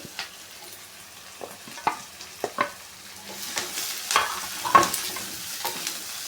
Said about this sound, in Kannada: ಹಸಿಮೆಣ್ಸಿಗೆ ಈರುಳ್ಳಿ ಚೆನ್ನಾಗಿ ಫ್ರೈ ಮಾಡ್ಕೊಳ್ಳೋದ ತುಂಬ ಚೆನ್ನಾಗಾಗುತ್ತೆ